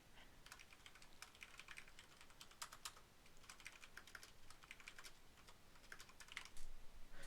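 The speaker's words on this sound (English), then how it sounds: "I'm going to quietly type, and I'll tell you when I'm done." Quiet, steady typing on a computer keyboard while writing a Roblox script, soft rapid key clicks in irregular bursts with no talking.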